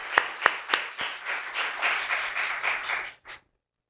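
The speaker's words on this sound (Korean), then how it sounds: "박수 올리겠습니다." A congregation claps during a Korean church Sunday service. A few sharp, separate claps open the moment, then dense applause follows for about two seconds before it cuts off abruptly, ending with one last small burst.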